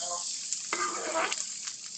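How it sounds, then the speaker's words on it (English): Oil in a pan begins to sizzle as sautéing starts for a shrimp and scallop fettuccine, a soft hiss with a brief swell of stirring in the middle, close and fairly quiet, with a faint voice in the background. "so that gives me enough reason to start sauteing"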